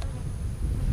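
Bees buzz steadily at an open hive after a honey harvest, a dense, continuous low drone close to the microphone with no voices.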